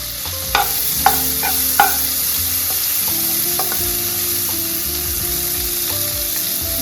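Two medium onions, finely chopped, fry in a pan for white sauce pasta, giving a steady close sizzle with a few sharp stirring scrapes early on.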